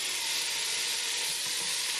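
Pork ribs sizzle in hot oil in a pot, a steady, bright frying hiss that fills the whole moment without pause or speech.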